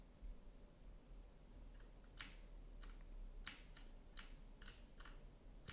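Computer keyboard keys pressed in a quick irregular series of sharp clicks, several taps spaced across a few seconds over a low steady background hum, with no talking.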